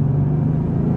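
A 2020 Audi S4 diesel engine pulls hard under full throttle, a loud, steady low rumble heard from inside the car, continuous with no talk.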